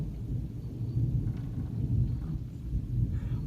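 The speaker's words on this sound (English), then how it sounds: "Wow, I've never had a thunderstorm like this." Deep thunder from a Massachusetts thunderstorm rolls continuously in the low end, a sustained rumble with several swelling peaks and no voices, heard close and steady throughout.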